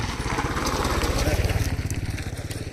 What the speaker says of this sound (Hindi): बाइक वाले जो होते हैं वो इधर से जाते हैं